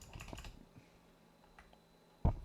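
A computer keyboard is typed on in a few sparse, quiet clicks, ending with one sharper, louder keystroke.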